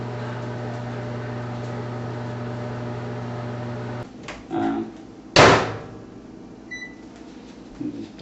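A microwave oven cooking sago fryums (javarisi vadam) runs with a steady low hum for several seconds and then stops, followed by clunks, a sharp clatter and a short beep, close by.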